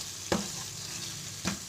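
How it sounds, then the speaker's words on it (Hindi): Cream being gently mixed into chicken in a pot, two brief scraping strokes of a spoon over a steady soft sizzle. "अच्छी तरह फैलाने के बाद हम क्रीम को हल्के हाथ से चिकन के अंदर मिक्स कर देंगे।"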